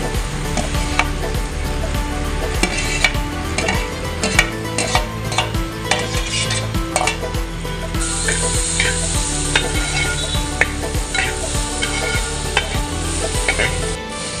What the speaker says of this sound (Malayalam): നമ്മുടെ സവോളയൊക്കെ നല്ലപോലെ വഴന്ന് കിട്ടിയിട്ടുണ്ട് കേട്ടോ